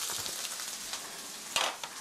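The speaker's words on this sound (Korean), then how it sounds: "그렇게 해서 10분 볶은 거예요" Onions stir-fry quietly in a pan, a soft low sizzle with occasional light scrapes and clicks of stirring, close by with no talk.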